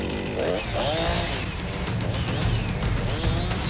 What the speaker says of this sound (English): Tackling fruit with a sword is one thing, but with a chainsaw, it's something else.